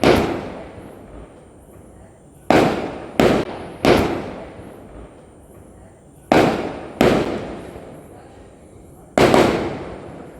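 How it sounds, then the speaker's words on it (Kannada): Neighbourhood firecrackers set off during a festive evening of lamp lighting burst in sharp, loud cracks, several in quick clusters with gaps between, each followed by a decaying echo. "ನಮ್ಮ ಕೇರಿಯಲ್ಲಿ ದೀಪ ಬೆಳಗುವ ಜೊತೆಗೆ ಪಟಾಕಿಯನ್ನು ಕೂಡ ಉರಿಸಿದ್ದಾರೆ ನೋಡಿ"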